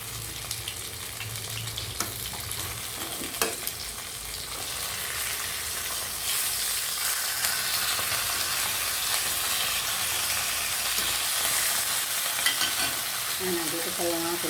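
Continuous crackling sizzle of tilapia frying in hot oil, steady and close, with a few faint clinks.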